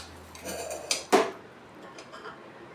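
Tomatoes, green chilli and other ingredients for a beef curry drop into a metal pressure cooker with a few close clanks and knocks. One sharp metallic hit stands out, and no one talks.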